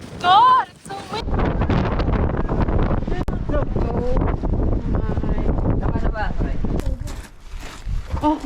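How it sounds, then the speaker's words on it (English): Strong wind buffets the microphone almost nonstop inside a small climbing cave in a natural setting, a loud, rough roar broken by brief lulls, with people talking and exclaiming over it throughout. "Oh my god, it's so windy."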